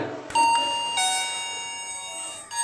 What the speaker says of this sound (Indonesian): kayaknya dengar suara bel nih